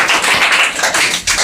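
A classroom of spoken-English students claps for classmates. Brisk, close hand claps come in an uneven burst, loud and continuous for just over a second, with a few sharper taps standing out.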